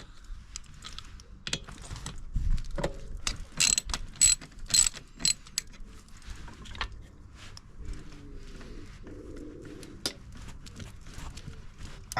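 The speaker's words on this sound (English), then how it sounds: "this big longer hose here goes to the back here. I'm going to remove that. That is a 7mm" Ratchet and mechanical clicks while a 7mm fitting holding a long hose is undone on a Nissan 300ZX twin turbo plenum. Bursts of close, sharp ratcheting come in irregular runs, with quieter rustling between them and no talk.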